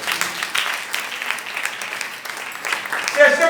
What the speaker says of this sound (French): Alléluia, acclame Jésus de Nazareth.